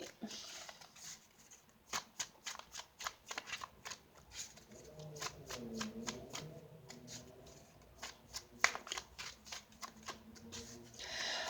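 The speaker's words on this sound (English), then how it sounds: "let me pull one more card" Tarot cards being shuffled during a reading, a dense run of crisp riffling snaps and slaps repeating across the whole stretch, close by, with a quiet voice murmuring beneath in places.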